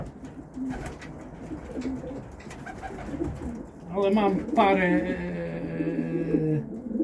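Homing pigeons at a loft in Szczecin coo in a sustained, moderately loud harmonic call in the second half, with softer bird sounds and people talking nearby before it.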